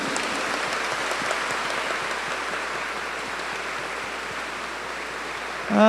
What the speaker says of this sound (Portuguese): vamos apresentar e dar uma salva de palmas para o Yuri